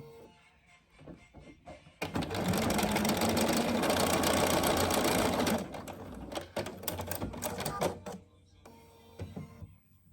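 An electric sewing machine stitches the last piece of a fabric bag, starting with short bursts, then running in a loud continuous whir for several seconds, and ending in stop-start spurts with no talk.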